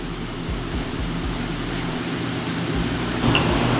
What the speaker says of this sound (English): Ignore the fan, I know it's pretty loud